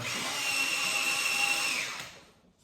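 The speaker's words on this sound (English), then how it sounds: "Sharpener warning." An electric pencil sharpener grinds an HB graphite pencil during portrait drawing, a steady high whirring buzz lasting under two seconds before it spins down and fades to quiet.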